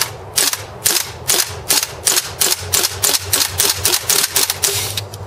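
A Marushin M2 airsoft gas carbine fires a steady string of about a dozen sharp, close, evenly spaced shots, each a crisp snap with a short mechanical clack, and no talking.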